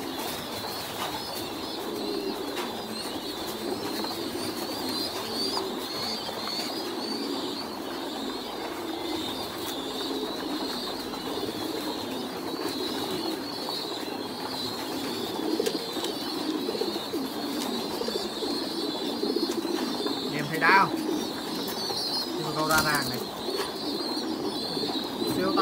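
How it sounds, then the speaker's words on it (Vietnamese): Soft, repeated cooing of pigeons continues throughout, with a faint high hum behind and a couple of brief sharper calls near the end. "Đây, những cặp chim câu siêu to đây anh em."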